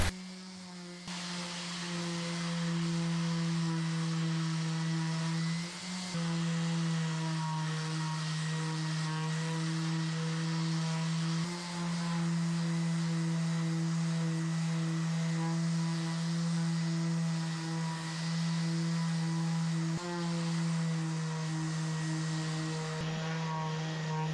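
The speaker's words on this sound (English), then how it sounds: "I'm now going to sand the top down with 120 grit sandpaper and then move on to 240 grit" A power sander with 120 grit sandpaper works across the top of a 1900s art deco wooden dresser, a loud, steady droning whine that runs continuously with only slight dips in level.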